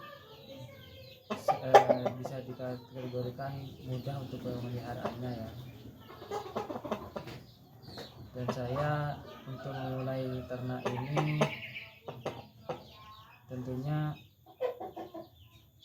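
Chickens in a village coop cluck and call intermittently under someone talking steadily nearby, with the birds moderately close and occasionally louder than the voice.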